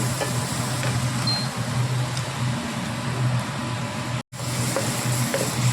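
Vinegar poured into a hot rose apple pickle mixture in a pan, giving a continuous sizzling hiss with a low hum underneath and one brief cut near the end.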